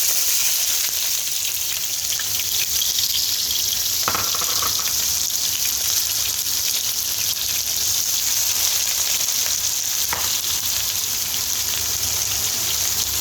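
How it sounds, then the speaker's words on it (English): Onions frying in oil in a pan on a stove for Sri Lankan deviled chicken, a steady, close sizzle throughout with a couple of brief stirring clicks. "now ready to start frying the onions"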